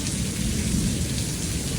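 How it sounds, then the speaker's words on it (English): Heavy rain pours down in a loud, unbroken roar of dense drops, close and constant for the whole moment. "while it's raining so bad"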